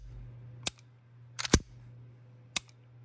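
Dry-fire trigger break and reset clicks from a custom Hi Power pistol with a single-stage trigger job: a few sharp, close metallic clicks spaced about a second apart, one doubled, over a faint steady hum.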